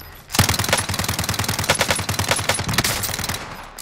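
Rapid automatic gunfire crackles through a first-person shooter match, a dense, steady burst of fast repeating shots that runs nearly the whole time, loud and close, with no one speaking over it.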